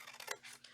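Scissors snip through a cardstock tab, giving a brief, close, crisp cut of a couple of quick blade closes that is over in under a second.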